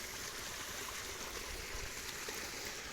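Steady irrigation water flows through a chickpea field, rushing and trickling continuously, a broad hissing stream with no voices.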